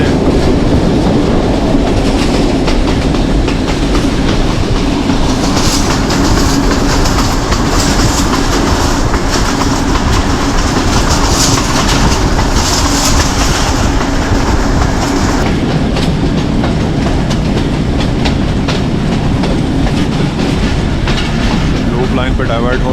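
The 267UP Rawalpindi Passenger runs from Rawalpindi toward Havelian in the rain, with a loud, steady interior rumble and rolling rail clatter that continues without a break.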